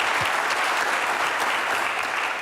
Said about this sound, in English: Round of applause if you've ever been out to Mark's Farm